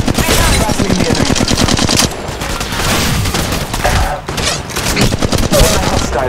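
Rapid automatic gunfire from Apex Legends Mobile, loud and sustained bursts of shots with brief pauses, dense and close throughout with a short lull near the middle before firing resumes.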